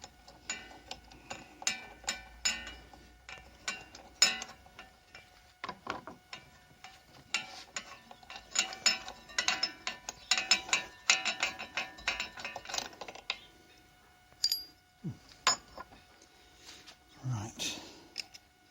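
A spanner working loose the spark plug on a lawn mower engine, with repeated ratcheting clicks and metallic scrapes in bursts, close by, then a few quieter knocks and handling noises near the end.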